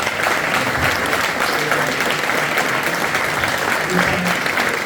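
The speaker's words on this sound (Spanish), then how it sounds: "Con este fuerte aplauso que les vamos a dar a nuestros queridos pacientes." Audience at a business and finance congress in Segovia applauding, dense loud clapping held steady throughout, with some voices mixed in.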